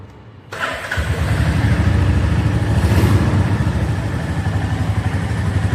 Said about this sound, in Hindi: अब भी अपन गाड़ी को स्टार्ट करने वाले हैं।